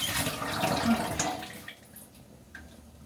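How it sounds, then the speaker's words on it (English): Tap water runs steadily into a kitchen sink during cleanup, a broad rushing splash that is loud at first and then drops to a quieter trickle, with no talking. "Okay, so let's clean up this sink because there's a lot going on in this sink"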